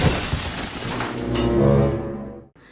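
A cartoon story sound effect of a dinosaur smashing a gorilla's house, with a loud crashing, shattering burst that rings out with breaking debris for about two and a half seconds before cutting off abruptly.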